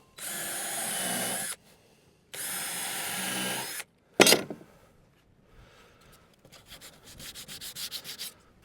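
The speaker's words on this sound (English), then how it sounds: "I'm only sanding them all individually now" Two long bursts of abrasive sanding on wood, close and loud, followed by a knock and quieter, rhythmic rubbing strokes.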